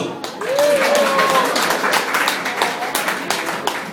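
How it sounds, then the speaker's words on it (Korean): An audience at a magic show claps steadily throughout, a dense wash of applause with brief bird-like whistles and a voice over the top. "박수!"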